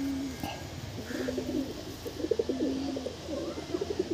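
Madras pigeons coo in a loft in Kolkata, a few soft, low throaty rolls repeating close by over a faint background hum.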